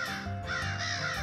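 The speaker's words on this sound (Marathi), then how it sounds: "तो ना कावळा ओरडतोय." A crow cawing at a window, a few harsh rapid caws close by and moderately loud, with no talk.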